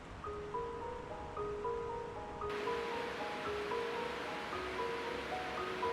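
Steady broadband rush of mountain torrents and waterfalls in the cirque du Fer à Cheval near Sixt, a continuous roar with some sustained tones above it and no voices.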